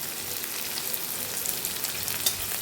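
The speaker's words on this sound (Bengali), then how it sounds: "হালকা বাদামি হয়ে আসা না পর্যন্ত এইভাবে নাড়তে থাকবো" Onions with a little salt fry in a pan under a continuous close sizzle, with faint scrapes of stirring now and then and no voices.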